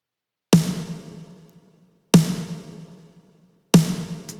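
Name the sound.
punchy roomy snare drum sample from Drum Sample Shop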